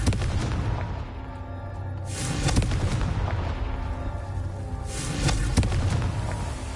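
Confringo fire-spell blasts in the Hogwarts Legacy video game, several deep booming explosions with a sharp crack, two strong bursts around two and five seconds over a rumbling battle background.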